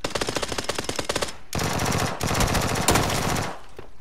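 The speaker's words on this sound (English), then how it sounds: "I'm getting shot from everywhere" Rapid automatic gunfire in the video game PUBG, loud bursts of repeated shots at first, then dense sustained firing with a sharp crack near the end.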